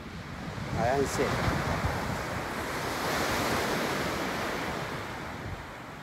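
Sea waves wash along the shoreline at a fishing spot on the coast near the Jinlun hot spring area in Taitung, with steady broadband surf and gusty wind buffeting the microphone. A brief bird-like chirp rises once early on.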